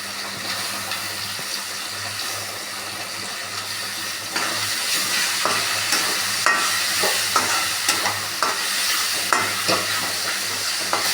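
Curry leaves and dried red chillies drop into hot oil for a toor dal sambar with snake gourd. The oil fries with a steady broadband sizzle, which jumps louder partway through, and is cut by repeated sharp scrapes and taps of stirring.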